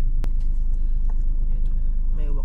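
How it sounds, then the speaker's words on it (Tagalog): A parked car's engine idles steadily while warming up, a continuous low rumble held close by with one brief sharp knock early on and faint background sounds over it. "pinapainit ko na lang yung sasakyan tapos alis na tayo"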